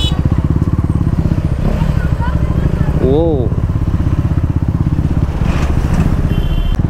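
KTM Duke 390 motorcycle revving hard during a burnout, a loud, steady throbbing engine roar filling the whole stretch with people talking and shouting over it.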